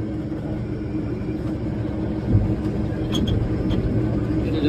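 A 1988 Versatile 936 tractor engine rumbles steadily at close range as it pulls away, a deep continuous drone with a brief louder surge partway through and no talking.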